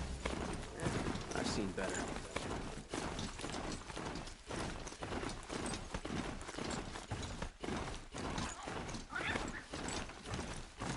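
Clip-clop hoofbeats of a ridden mount in the video game Horizon Zero Dawn, a steady rhythmic trot of closely spaced thuds continuing throughout, with a voice speaking briefly over it.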